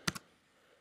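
A few quick clicks on a computer keyboard while a web address is typed into a Firefox browser: two taps close together, a pause, then one more sharp burst, all near and fairly quiet.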